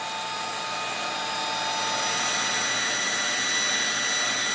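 A torch roars steadily and close as it heats a curled metal rod to straighten it for a W109/W108 wheel arch and bumper bracket repair, a constant hiss that swells slightly louder toward the end, with no talking.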